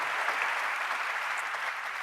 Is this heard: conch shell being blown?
no